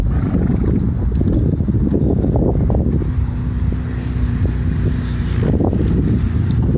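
Horses from an equine gentling community herd move about with hoof clip-clops and an occasional whinny, close and loud against steady wind noise.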